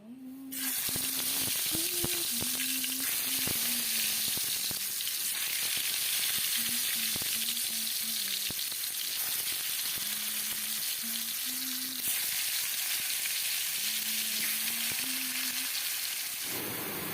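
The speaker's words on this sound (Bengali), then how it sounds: "এই যে এখানে লাল লাল করে কাঁকরোলটা ভাজাভুজি করে নিয়েছি" Spiny gourd slices fry in a pan until reddened, giving a continuous hissing sizzle that stays steady and close throughout, with a faint tonal hum running beneath.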